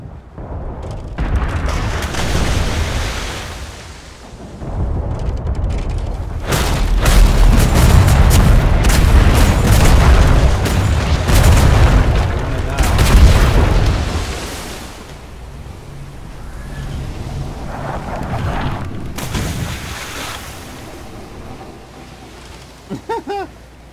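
Cannon fire striking a ship at sea in the pirate video game Atlas, heavy booms and crashing impacts over a rushing wash of water, swelling loud in the middle and easing off later.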